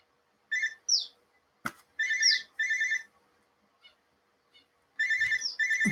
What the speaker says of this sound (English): Apologies for the phone ringing.